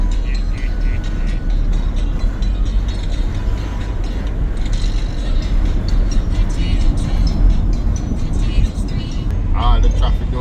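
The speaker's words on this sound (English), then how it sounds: "the traffic down there like weekday" Road traffic on a busy bank road carries a constant rumble of cars and heavier vehicles passing, loud and close, with a brief squeaky burst near the end and people chatting over it.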